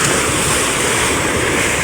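Big waves surge and rush around a small outrigger boat on the Pacific Ocean in rough weather, a loud continuous roar of water mixed with wind buffeting the microphone.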